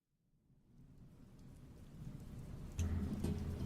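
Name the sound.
rain falling with thunder and lightning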